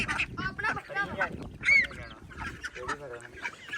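Ducks on a farm, kept alongside goats, give a series of nasal honking quacks close by, mixed with a person talking over them in short bursts.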